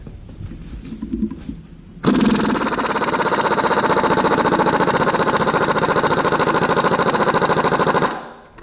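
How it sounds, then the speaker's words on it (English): A shop air compressor runs during a Mack R686ST truck restoration, kicking in loud and close with a steady, rhythmic chugging drone that holds for about six seconds before cutting off. "I'm going to have to stop and wait for the air compressor to air up every single nut that I take off"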